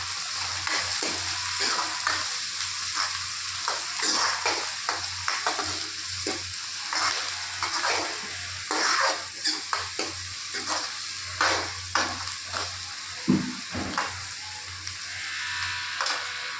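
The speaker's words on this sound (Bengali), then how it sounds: "এখানে বেশ কিছুটা আমি পেঁয়াজ কাঁচা লঙ্কা নিয়ে নিয়েছি, এটাকে আমি ভালো করে ভেজে নিই।" Onions and green chillies fry in a pan, with a steady sizzle and repeated scraping strokes of a stirring spatula close by, and no voices over it.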